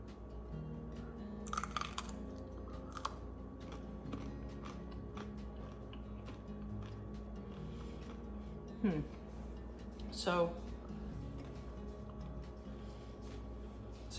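Someone bites into and chews a small fermented rainbow carrot, brined with dill, ginger and garlic and still crunchy, giving a few sharp, quiet crunches spread across a mostly hushed stretch.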